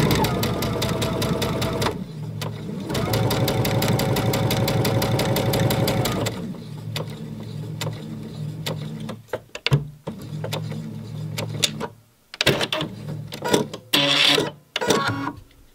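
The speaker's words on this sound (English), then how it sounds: "then I'm going to sew forward following that line" A sewing machine stitches fabric for a mitered corner in close, rapid runs, a buzzing mechanical chatter in long bursts that break into shorter stop-start spurts and clicks.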